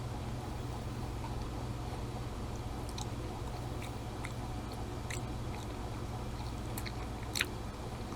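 Close, soft chewing of a century egg, faint moist mouth sounds with a few small clicks over a steady background hum, and no talking.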